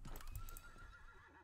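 Horses in the Paladins video game give a loud whinny over clip-clopping hooves, a close, rising-and-falling neigh layered with game noise, with no speech.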